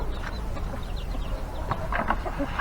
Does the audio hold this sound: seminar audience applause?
no